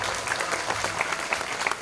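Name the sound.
audience applause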